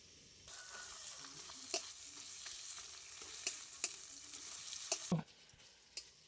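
Ginger-garlic paste sizzles in a pan with fried onions for a rohu fish curry with Malabar spinach, a soft steady frying hiss broken by several sharp spatula clicks and scrapes, fairly quiet, with no talking.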